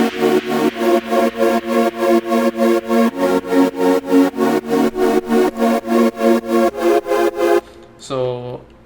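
Synth chords stacked on bass notes in a frenchcore remix made in FL Studio, pulsing in a steady rhythm of short repeated stabs, loud and alone, ending with a brief sustained tone.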